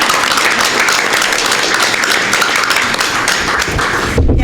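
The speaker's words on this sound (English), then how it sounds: "Now do I get to clap?" Clapping in a school board meeting room right after a vote is carried, a dense, steady patter of many hands that ends abruptly with a few thumps.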